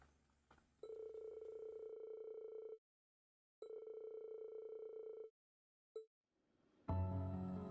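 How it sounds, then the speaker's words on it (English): Phone ringing in the video game Trails of Cold Steel IV: two long steady electronic tones with a gap between, then a short blip, followed by a burst of game music, fairly quiet overall. "You have a phone call."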